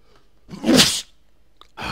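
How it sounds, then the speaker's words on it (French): One person sneezes once, close and loud, with a sharp burst and a short breathy tail. The room is quiet around it and a voice starts just after. "Ah, j'en ai marre d'éternuer."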